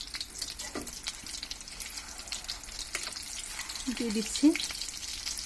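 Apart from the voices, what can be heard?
aloo chop potato fritters frying in oil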